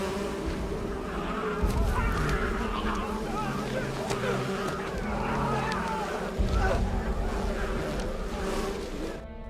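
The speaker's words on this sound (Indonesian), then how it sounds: "membawa sarang tawon dan melemparkan ke arah mereka" A thrown wasp nest in the film Apocalypto releases a swarm of wasps that buzz in a dense, continuous drone, with two heavier low thuds and speech heard over it.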